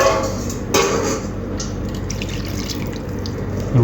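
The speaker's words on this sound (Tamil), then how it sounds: "நல்லா கழுவி ஊற்றுவோம்." Tap water pours steadily over cauliflower being washed in a kitchen before cooking a kurma. The running stream is fairly loud and continuous, with a brief splash or clatter near the start and no voices.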